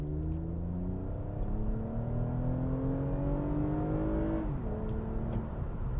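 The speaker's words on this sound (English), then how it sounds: "we can get out here and do a little acceleration test." A 2021 Toyota Camry TRD accelerates hard during an acceleration test, its engine note climbing steadily through the gears with a brief dip at a shift, heard from inside the car with no talking.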